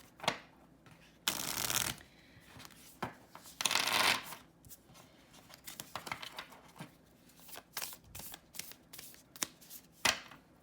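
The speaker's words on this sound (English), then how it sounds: "They shuffle really lovely." An oracle card deck with laminated cardstock is shuffled by hand in bursts of riffling and flicking, with crisp rustling strokes and short snaps close up and no talking.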